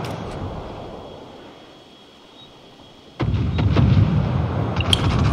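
Warship main battery firing in World of Warships, with a sudden heavy boom after a quiet stretch that rolls into a sustained rumble with a few sharper cracks.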